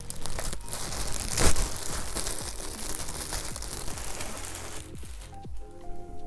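Close, busy crinkling and tearing of plastic wrapping on a package holding a shirt, a rough rustle that swells early on and then eases into quieter crackles.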